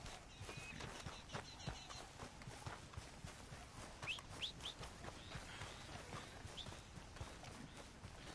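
Horse hooves clip-clopping at a steady walking pace in Red Dead Redemption 2, faint and somewhat distant, with a few bird chirps in the background ambience.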